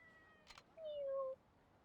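A black cat in the Yakuza 3 video game gives one short, clear, descending meow, heard alone at moderate volume after a brief soft click.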